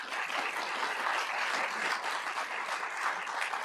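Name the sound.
audience applause for Officer Elisa Barrios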